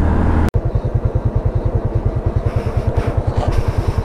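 A Honda XRM fuel-injected motorcycle carrying two riders on a rural road, its close single-cylinder engine pulsing in a rapid, even putter throughout after a brief cut at the start.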